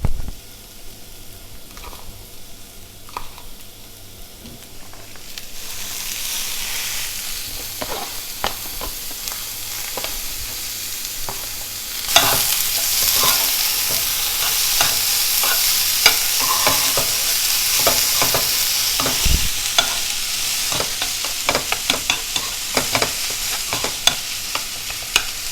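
Potato samosa filling with spring onions is stirred and fried in a pan. A quiet start gives way to a loud steady sizzle that grows stronger midway, with frequent scraping and clinking stirs throughout.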